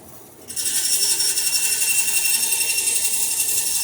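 A steady, close power-tool cut runs through wood being trimmed to size for a cuddy cupboard top plate on a Chamberlain Alpha Dory build, starting abruptly after a moment of quiet and holding an even, harsh whine with no voices.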